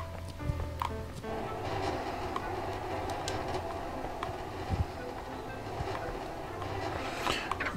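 A train rumbles past in the physics video game Human Fall Flat, a low, steady mechanical roar with faint clanks, fairly quiet and continuous throughout.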